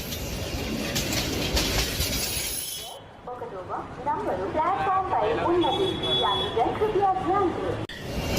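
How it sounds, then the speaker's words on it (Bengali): A train pulls into a station with steady rumbling and clattering, then slows with screeching brakes and tonal squeals, while people talk nearby on the platform. "প্ল্যাটফর্মে একটু অপেক্ষা করতেই ট্রেন চলে আসলো।"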